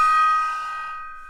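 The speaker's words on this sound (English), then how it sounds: "I've got a jingle for that" A bright bell-like chime rings once to close a podcast jingle, struck loudly up close and leaving a clear tonal ring that slowly decays, heard alone without talking.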